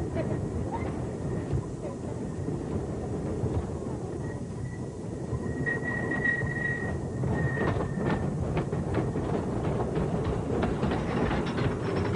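The Great American Scream Machine roller coaster runs along its tracks with a rumbling clatter and a rising metallic squeal, heard at moderate distance beneath faint background voices.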